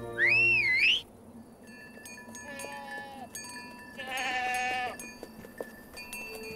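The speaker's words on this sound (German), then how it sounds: "Und Distelfink ist meine eigene Ziege." Goats bleating in an animated Alpine mountain setting: a loud high whistle-like call opens, then several harmonic bleats of varying pitch follow over a low music bed.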